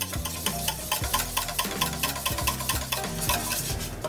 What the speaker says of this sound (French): On va mélanger le tout au fouet.